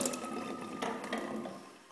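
Water runs from a kitchen tap in a short, close, steady gushing stream with slight fluctuations, and no talk.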